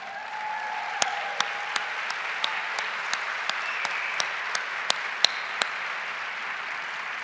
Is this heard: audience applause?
yes